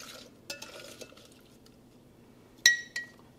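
Garlic and vegetables are piled into a glass jar for pickled jalapeños and carrots, giving a few light taps and clinks, followed by one sharp, bright glass clink and a softer one right after, close by in a quiet kitchen.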